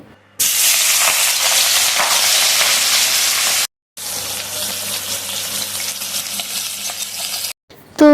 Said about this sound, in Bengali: এই যে সর্ষের তেল দিয়ে দিয়েছি তো মাছগুলো এখন ভেজে নেব